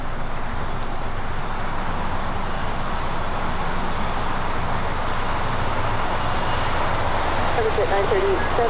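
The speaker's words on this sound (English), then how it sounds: "back to the 757. Now rolling down" Boeing 757 jet rolling down runway 25 left at LAX, a steady broad engine roar with rumble that holds at a constant loud level for the whole stretch.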